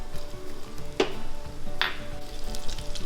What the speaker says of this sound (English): now I'm going to add the ginger